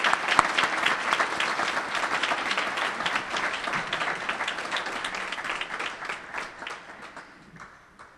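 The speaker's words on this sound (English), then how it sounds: "I ask that we all give you a round of applause" An audience at a naturalization ceremony in a public library applauds new citizens, a sustained crackle of many hands clapping that gradually thins and fades out near the end.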